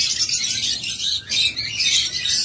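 A breeding pair of lovebirds chirps in rapid, bright bursts, loud and close, with a short gap midway and no talking.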